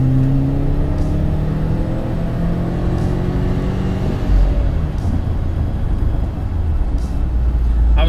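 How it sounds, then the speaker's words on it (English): A car accelerating through a pull on a town road, its engine note rising steadily and loud throughout without an audible gear change, with broadband road and wind roar underneath. "So here's a little bit of a pull."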